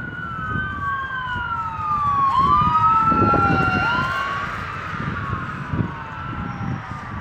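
An emergency siren sweeps up and down loudly as it passes close by outdoors, its pitch gliding through several wails over steady traffic rumble, then easing off as it moves away.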